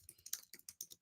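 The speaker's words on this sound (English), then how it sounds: "I'm typing it." Quick keystrokes on a computer keyboard, roughly seven or eight crisp clicks in one second in an uneven rhythm, close and fairly quiet with no voices.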